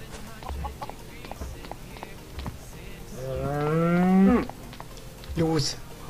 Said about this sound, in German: So, ich muss die Kuh rausschmeißen.